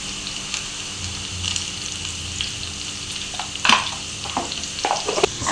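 Curry leaves and salt sizzle steadily as they fry in a pan and get stirred, with a continuous crackle broken by a few sharper clinks and scrapes of the spoon against the metal.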